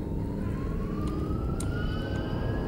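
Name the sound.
police sirens in the video game Dead Faces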